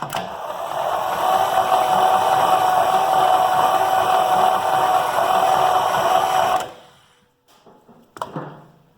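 The starter cranks a 1933 Buick engine, which churns steadily and loudly for about six seconds before cutting off, followed by a few faint clunks.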